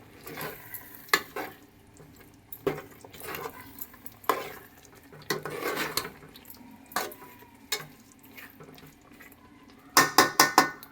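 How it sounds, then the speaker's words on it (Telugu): A spoon stirs ivy gourd curry in a pan, scraping and clinking against the metal in irregular bursts with a faint sizzle beneath, ending in a quick flurry of taps. "ఇప్పుడు ఇదంతా మనం దొండకాయ ముక్కలకు పట్టేటట్టు ఒక్కసారి బాగా కలుపుకోవాలి"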